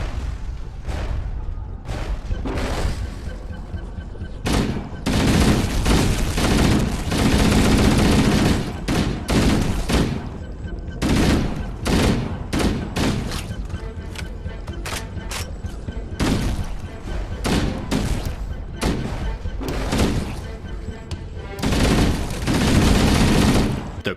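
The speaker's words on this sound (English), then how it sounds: "the creatures make a startling entrance, banging on the doors, forcing them open" Halo combat scene with the Flood creatures bursting in, rapid bursts of heavy gunfire and booming impacts continuing almost without pause, loud and dense throughout.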